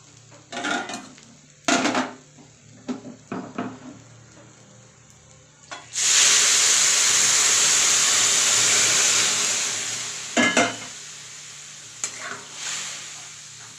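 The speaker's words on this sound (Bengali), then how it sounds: "তো আমার খিচুড়িটা ফুটে উঠছে দেখো" Khichuri in a pot is stirred with clinking spoon strokes, then water goes in with a loud, sustained hiss lasting several seconds, followed by more scraping and stirring.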